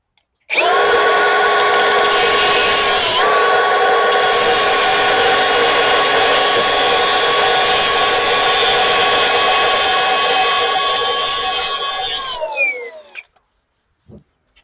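Cordless angle grinder cutting metal tube during a FE3 turbo engine swap into a Mazda B2200, a loud continuous high whine lasting about twelve seconds, then spinning down and stopping, with no speech.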